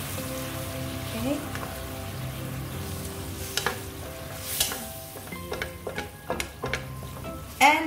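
Prawns stir-frying with broccoli in a hot wok, crackling sizzle with scattered sharp clicks and scraping stirs, fairly close, with a brief voice near the end.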